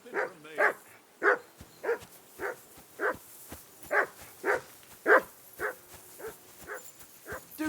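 A dog in the medieval video game Kingdom Come: Deliverance II barks repeatedly in a steady, fairly quick rhythm, about a dozen close, loud woofs with no speech over them.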